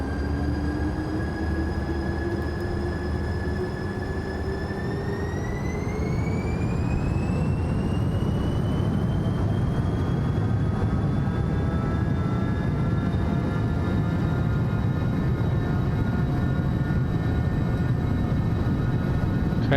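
A Skyward Sovereign+ aircraft accelerates down runway 34 on its takeoff roll in a flight simulator, with a steady engine roar and whining tones that climb in pitch partway through and then hold high and loud.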